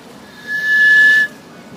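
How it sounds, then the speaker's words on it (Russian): A single steady whistled note held for about three quarters of a second, clear and fairly loud against a quiet room, rising from near silence and cutting off cleanly. "Ну-ка, сейчас можно свистнуть."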